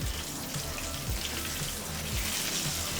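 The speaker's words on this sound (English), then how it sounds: "since I have a good amount of oil in there, it's cooking all the way up to the sides of the" Tofu fries in a pan with a generous amount of oil, giving a steady, close sizzling hiss that carries on without a break.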